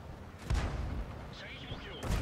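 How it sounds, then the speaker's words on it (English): A StuG III in World of Tanks landing a hit, heard as two heavy booming tank-gun impacts a couple of seconds apart, with muffled battle noise and a talking voice between them. "And another hit there from that Stug 3."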